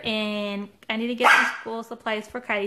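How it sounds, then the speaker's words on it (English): A pet dog barks and yips close by while someone talks over it, the short harsh barks breaking in amid her speech. "Sorry, that's my dog"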